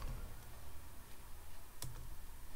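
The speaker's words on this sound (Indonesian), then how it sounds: "Nah, begitu ketik PSQL" Keys tapped on a computer keyboard while entering a psql command in a terminal, a few faint sparse clicks with one sharper keystroke near the end, quiet and close with no speech.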